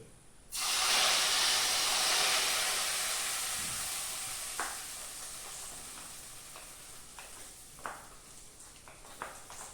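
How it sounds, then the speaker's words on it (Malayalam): Hot spice tempering poured into a prepared Angamaly-style fish curry, bursting into a loud, close sizzle and hiss that slowly fades, with a few small pops and stirs. "ഈ കൂട്ട് അങ്ങനെ തന്നെ നേരത്തെ ഉണ്ടാക്കി വെച്ചിട്ടുള്ള മീൻകറിയിലേക്ക് ഒഴിച്ചു."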